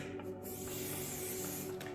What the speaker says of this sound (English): This is actually artist spray paint.